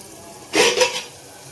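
A spoon stirs onions and ginger garlic paste frying in oil in a pan, making a short scraping rustle of two quick strokes that close together, then silence.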